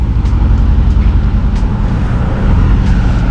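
A Mercedes G-Wagon driving past on a Dubai street: a loud, close, rumbling engine and road roar holds steady throughout, with a few faint high hisses over the traffic and no talking.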